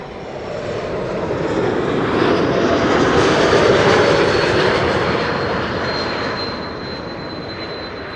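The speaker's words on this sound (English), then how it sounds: "This is KLM flight 1570, arriving from Porto in Portugal." A KLM airliner on its landing approach at Amsterdam Schiphol Airport, arriving from Porto, roars past close by, its engine noise swelling to a broad peak and then fading steadily, with no one talking.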